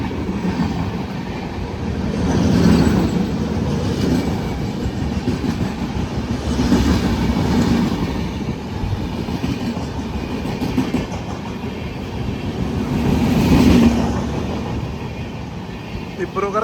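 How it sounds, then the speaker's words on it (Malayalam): The Dibrugarh–Kanyakumari Vivek Superfast Express rolls past a railway station on a rainy, foggy morning, its wheels rumbling and clacking in rhythmic swells; a voice speaks over the passing train. "ദിബ്രുഗർ കന്യാകുമാരി വിവേക് സൂപ്പർ ഫാസ്റ്റ് ആട്ടോ."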